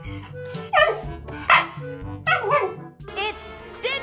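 Shiba Inu dog barking and yipping near the microphone in short repeated bursts, with whiny high yips between them and a person's voice talking alongside.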